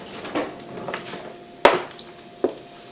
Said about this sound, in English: I'm just going to stir this around